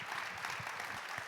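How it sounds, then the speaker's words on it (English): An audience at a performing arts centre applauds a film festival's creators, a steady wash of many clapping hands heard from a distance. "Big round of applause, please."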